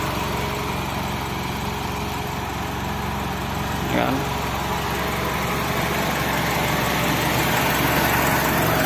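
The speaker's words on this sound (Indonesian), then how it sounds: "Ini mesinnya halus, bro." A 1991 Mitsubishi Lancer's DOHC engine idles with a steady, even hum that stays constant throughout. Someone speaks briefly over it.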